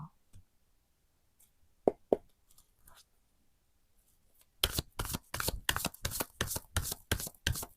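Oracle cards are shuffled for a tarot reading, a few soft clicks at first, then a rapid burst of crisp riffling snaps close to the microphone for the last few seconds.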